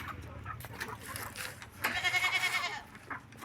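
Goats bleating on a farm, a wavering bleat in the middle standing out over quieter animal calls and background farm noise.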